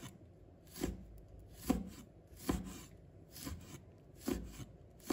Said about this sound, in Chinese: 再准备几个小米辣，把它切成小圈。